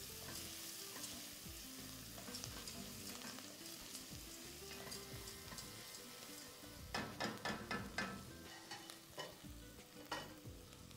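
Leeks, celery, fresh tomatoes, onion, garlic and green coriander sizzle quietly in a pan while a utensil stirs them, producing a cluster of clattering scrapes around the middle, with soft frying throughout and no talking.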